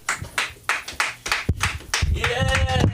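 A comedy club audience claps for a comedian in a rhythmic series of roughly a dozen distinct, fairly close claps at a steady pace, with a voice and crowd noise rising toward the end.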